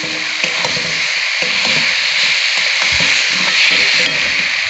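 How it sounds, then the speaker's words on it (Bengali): Potatoes and fried eggplant with green chili hit a pan of cooked-down spice masala, giving a steady loud sizzle with occasional scraping stirs and clinks throughout. "এবার আমি আলু আর বেগুন ভাজাটা দিয়ে দিচ্ছি"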